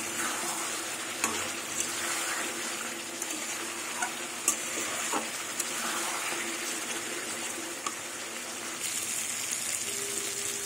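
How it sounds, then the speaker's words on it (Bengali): Water pours steadily into a pot of potatoes and spices that have been sautéed until the oil separates, for a bhetki fish curry; a continuous close gush with a few small clinks. "এবার আমি জল দিয়ে দেবো।"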